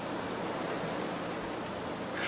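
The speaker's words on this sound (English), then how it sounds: "Crap, it's getting windy." Steady, broad wind rushes through a snowy wilderness in The Long Dark, a continuous gusting hiss filling the scene without pause, loud and close.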